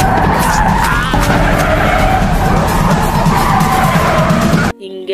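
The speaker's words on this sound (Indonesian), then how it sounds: "Hingga mobil tersebut terperosok ke sebuah pinggir danau dan Kyung Chul berhasil selamat" A car skids off the road toward a lakeside, tyres scraping and screeching loudly for several seconds under a roaring engine before the sound cuts off abruptly.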